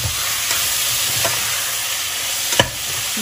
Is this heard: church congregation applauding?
no